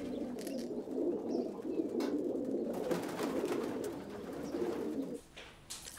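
A homing pigeon coos in low, continuous rolling murmurs near the listener, the soft throaty warble running for several seconds before cutting off.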